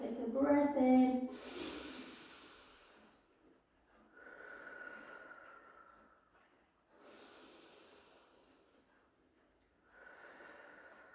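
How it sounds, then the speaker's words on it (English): A deep breath drawn in during a Pilates stretch: a voice speaks first, then slow, airy inhales and exhales rise and fall in a quiet room. "Take a breath in."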